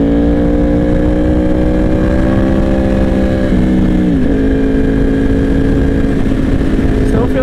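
Motorcycle engine pulling in standard riding mode, a loud steady drone close up with harmonics that climb, dip briefly near the middle, then hold as the bike accelerates under continuous wind rush.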